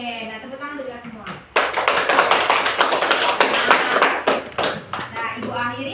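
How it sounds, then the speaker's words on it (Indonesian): Group applause at the close of a teachers' training discussion session, several seconds of loud, brisk clapping by a gathered group, with speech before and after. "tepuk tangan untuk kita semua."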